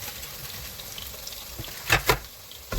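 Onion and garlic sautéing in a pan for Linagpad, a soft continuous sizzle with a couple of brief louder stirring scrapes near the end.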